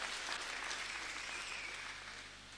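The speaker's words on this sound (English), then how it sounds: "Yeah, please clap." A church congregation at CITAM Buruburu claps together in steady, dense applause that holds for a couple of seconds and slowly fades, heard at a modest level.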